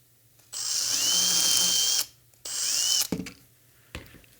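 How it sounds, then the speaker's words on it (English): Power drill boring a hole during bumper assembly, two sustained high whining bursts of about a second and a half and half a second, followed by clunks of handling, close and loud. "So I want to drill just almost to the end and then stop."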